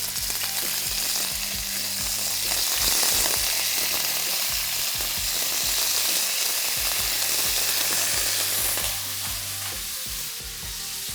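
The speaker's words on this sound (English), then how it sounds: "I'm taking fish and straight frying it." Steady, loud sizzling of fish frying in hot oil, crackling continuously close up, with occasional soft scraping.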